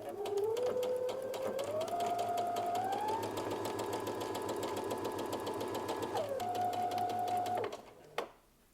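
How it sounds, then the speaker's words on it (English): Close and steady, a home sewing machine hums at a varying speed as it stitches a sleeve into an armhole, rising and falling in pitch before stopping with a short final backstitch. "you're going to go to the sewing machine and you're going to sew a stitch all the way around"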